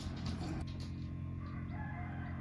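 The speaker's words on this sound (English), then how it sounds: "it's a hen, because it's an Araucana" Araucana hen calling loudly and close, a drawn-out crowing cackle over steady low background noise.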